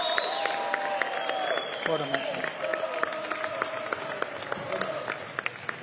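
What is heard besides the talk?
boxing crowd applause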